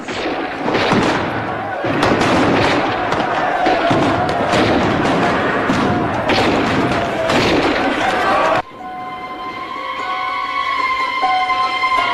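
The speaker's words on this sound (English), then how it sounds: "Continue firing, soldier!" Soldiers fire their guns in an old Arabic film, heard as a loud, continuous volley of repeated thumping shots that stops abruptly, with voices under the shooting.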